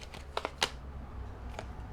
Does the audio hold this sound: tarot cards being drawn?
yes